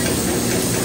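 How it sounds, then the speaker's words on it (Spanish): A small steam pressure washing machine cleans a motorcycle at a wash shop, giving off a loud, continuous broadband hiss that stays steady and close throughout, with no one speaking. "y la lavan a vapor con esa maquinita que está ahí"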